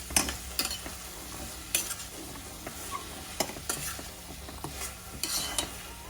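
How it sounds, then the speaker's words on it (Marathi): A pot of kadhi curry bubbles on the stove in a kitchen where brinjal bharit is being made. Soft, irregular bubbling and sizzling is broken by scattered sharp pops and clinks, close by and without speech. "कढीला छान उकळी आलेली आहे"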